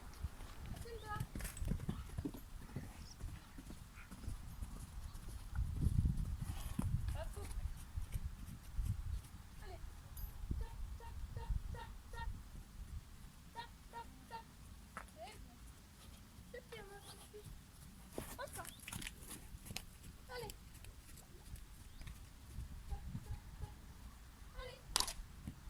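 A young filly trotting on the lunge line, her hooves clip-clopping in a steady rhythm on the ground while someone talks over it; a horse snort or whinny surfaces briefly.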